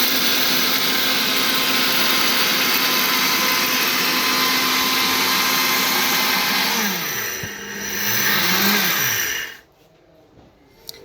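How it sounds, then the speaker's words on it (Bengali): A Kiam automatic pulse blender runs loud and steady at close range, its motor pitch dipping and rising near the end before it cuts off abruptly to near silence; no one speaks. "আপনি ব্লেন্ডারে এভাবে রেখে অন্য কাজ করতে পারবেন। আর আমি যদি ফিনিশিংয়ের চেষ্টা করি তাহলে দেখতে থাকুন"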